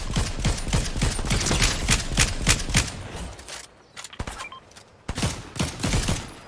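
Rapid bursts of video game gunfire crackle in quick volleys, loud and dense at first, then sparser single shots after a brief lull, with no talk over it.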